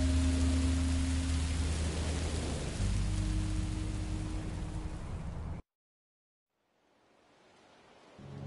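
Steady broadband rain hiss in the Minecraft Story Mode video game, with low tonal game music underneath, cutting to silence partway through before faint rain fades back in.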